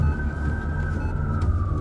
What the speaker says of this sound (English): I can feel the ambulance going faster and faster.